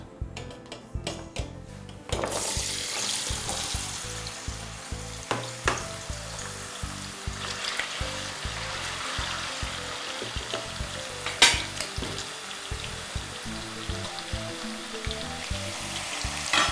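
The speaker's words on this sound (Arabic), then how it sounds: "ملح وفلفل كحل، ونحطوها هنا تتقلى." Seasoned meat fries in a pan with steady, close sizzling, punctuated by stirring and a few clinks of utensils against the pan, with no talk.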